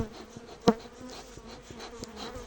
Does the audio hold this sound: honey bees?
yes